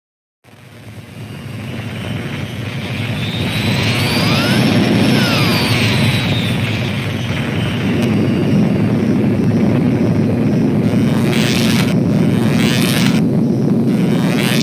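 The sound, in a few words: shuttle sucked into anomaly, from video game Space Quest 6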